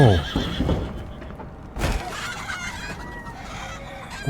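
In a video game, a chicken clucks and squawks near the start, followed by a burst of mixed animal sounds resembling a horse whinny, then fainter scattered game noises.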